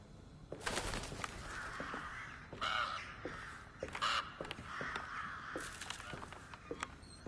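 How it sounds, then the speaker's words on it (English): Crows caw repeatedly in the video game Alone in the Dark, harsh calls overlapping in bursts at a moderate distance amid a steady ambient background, with faint footsteps and no talking. "Alright, active crows."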